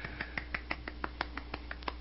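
Finger snapping used as applause, a rapid, steady run of about a dozen crisp snaps, close and fairly quiet, with no talk.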